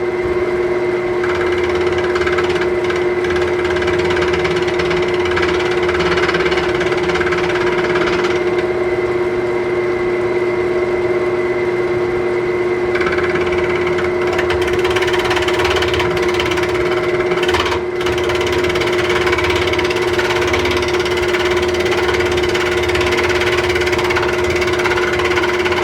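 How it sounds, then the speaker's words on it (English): A Sorby turning tool scrapes wood on a spinning lathe, a loud constant motor hum with a rough, shifting scraping texture over it throughout. "I want to come back in here and do a little scraping there"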